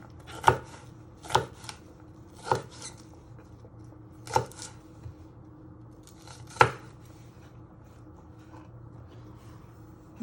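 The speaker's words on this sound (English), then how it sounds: "So you just move your knife one way, you turn it around, and you want to do nice little pieces." A sharp kitchen knife chops pak choi on a board in about six sparse, crisp thuds spaced irregularly a second or two apart, close and clear against a quiet room.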